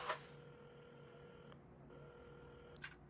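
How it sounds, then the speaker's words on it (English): Telephone being dialed in the video game Assemble With Care: faint electronic tones and short beeps over quiet room ambience, with soft clicks at the start and near the end. "at the counter, Carmen had started dialing the phone"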